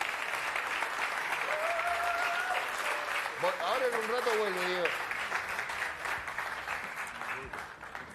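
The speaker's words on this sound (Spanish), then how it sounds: "Fuerte el aplauso para Diego Viñolo" An audience gives sustained, fairly quiet applause for Diego Viñolo, a continuous patter of many hands that lasts throughout, while someone talks over it.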